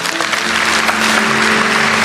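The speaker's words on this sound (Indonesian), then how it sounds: "kasih tepuk tangan untuk Tuhan Yesus" Church congregation clapping for Jesus at a sermon, a dense, steady wash of applause that stays loud and even throughout, with a faint tone underneath.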